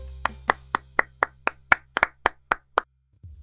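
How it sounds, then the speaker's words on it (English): A single pair of hands claps eleven times in a steady, even rhythm, each clap sharp, close and distinct, over a faint low hum, with nothing else after the last clap. "I am clapping."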